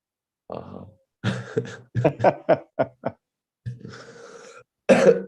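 A man coughs repeatedly at close range, a rough burst followed by a rapid series of short, harsh coughs and a final loud hack.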